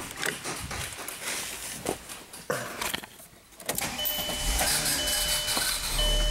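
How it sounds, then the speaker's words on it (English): A VW Eurovan's starter cranks with an odd, goofy sound, then the engine catches into a steady running hum. The sound is close and moderately loud, with some clunks before it. "That's a little bit of a goofy starter noise there."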